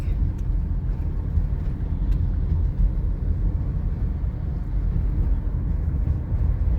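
Road traffic on EDSA in the Cubao area rumbles as a continuous, loud low roar of engines and tyres, heard from inside a moving vehicle with no talk.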